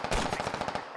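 Rapid automatic gunfire in the video game Squad, a fast burst of close, loud shots in an even rattling rhythm that lasts under a second, alone without talk.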